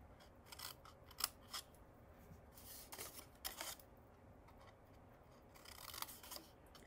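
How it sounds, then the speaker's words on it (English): Scissors snip through scored cardstock along fold lines for a 6 x 8 fall mini album, giving a series of quiet, close, crisp cuts in irregular bursts, with no talking. "I'm going to go ahead and cut up that score line or that fold line."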